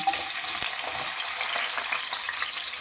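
Chopped onions frying in hot oil for a chicken fry, a steady, dense sizzle and crackle that holds close and loud throughout with no voices.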